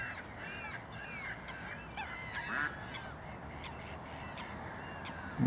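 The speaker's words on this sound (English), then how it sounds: "Lots of swans and passing geese." Geese passing over a reservoir honk repeatedly, their calls overlapping and moderately distant above a steady outdoor wash, on a countryside walk from Tring to Wendover with swans nearby.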